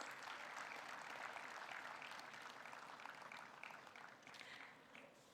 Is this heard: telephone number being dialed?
no